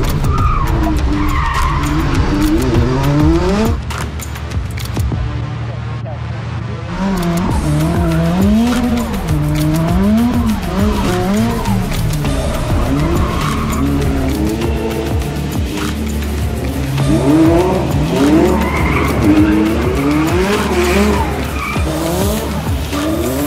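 Cars performing J-turns during a driving lesson, with long wavering tire squeals and skids repeating over and over, engines revving and roaring between slides, loud and fairly close with no talking.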